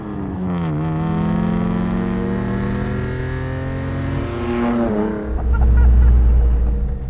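A rare Toyota sports car's exhaust rasps and hums as it drives, engine note rising and falling through gear changes, then swelling to a deep, loud drone near the end, heard from close by without talk.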